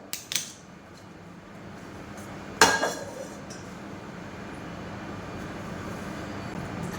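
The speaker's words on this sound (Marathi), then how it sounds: "आपण गॅसवरती पाणी ठेवूया कढईमध्ये मुटके वाफलून घेण्यासाठी" A kadhai (wok) of water is set on a gas stove with a light metallic clink at the start and a sharper clank midway, followed by a quiet, steady background hum.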